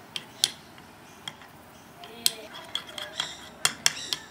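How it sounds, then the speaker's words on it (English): A utensil stirs melting chocolate in a bowl, tapping and clinking against the sides in irregular sharp ticks over a soft scraping background, close and fairly quiet. "Just keep stirring until it's all melted."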